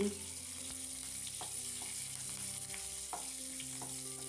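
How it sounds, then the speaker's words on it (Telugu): Steady sizzling of chili flakes and curry leaves frying in hot oil as a tempering, close and continuous, with a few faint clicks of stirring. "ఇందులోకి చిల్లీ ఫ్లేక్స్ ఒక రెమ్మ కరివేపాకు వేసుకుని ఫ్రై చేసుకోవాలండి"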